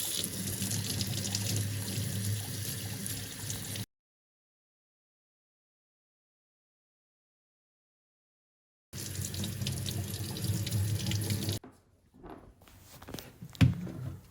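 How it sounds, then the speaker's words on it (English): Running tap water while pork loin is rinsed at a sink, a steady rushing flow that cuts off for several seconds of silence, then returns before ending in softer trickles and a few handling knocks. "And for the pork loin, we will be rinsing those off."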